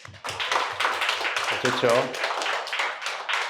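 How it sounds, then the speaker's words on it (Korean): Church congregation clapping in celebration, a steady run of close, crisp handclaps through the whole stretch while voices speak briefly partway through. "박수."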